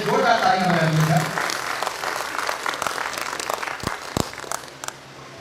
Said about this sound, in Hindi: यहाँ पे जो दुनिया के लोगों के लिए जोरदार तालियां हो रही है।